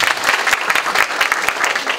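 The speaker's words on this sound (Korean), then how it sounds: "다시 한번 김태관 교수님께 큰 박수 부탁드립니다." An audience applauds a professor at the close of a special lecture on digital media, dense and loud clapping from many hands filling the whole stretch without pause.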